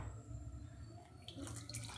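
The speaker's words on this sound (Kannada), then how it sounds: "ಈಗ ಸ್ವಲ್ಪ ನೀರು ಹಾಕ್ಕೊತಾ ಇದ್ದೀನಿ." Water poured into a pot holding sugar to make sugar syrup for jamun, a steady close trickle that grows into a brighter splashing pour in the second half.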